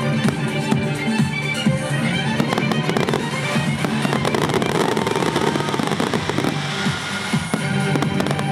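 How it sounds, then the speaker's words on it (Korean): A multimedia fireworks display at the 68th Baekje Cultural Festival in Gongju, South Korea, booms and crackles without pause, dense overlapping bursts loud and continuous throughout. "마지막으로 정말 얼마만에 보는지 모를 멀티미디어 불꽃놀이가 이어졌는데요."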